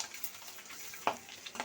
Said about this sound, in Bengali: এখন কিন্তু আমি আস্তে আস্তে করে ডিমগুলো উল্টে নিচ্ছি।